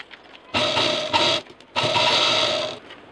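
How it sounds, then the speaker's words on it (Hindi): A sewing machine stitching a fabric shagun envelope pouch, loud close whirring bursts: one run, a short pause, then a longer run before it stops. "इस तरह से, और इसको यहाँ पर सिल देंगे। इस साइड भी सिल देंगे"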